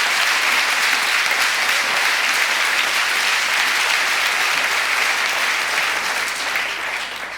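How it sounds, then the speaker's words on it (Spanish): A crowd at a political campaign rally in Torrelavega claps loudly and steadily for about seven seconds, and the applause fades slightly at the end. "No aplaudéis, aplaudís cuando llegue la revolución."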